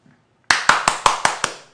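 Six evenly spaced, crisp hand claps ring out close by after a moment of quiet, each with a short decay.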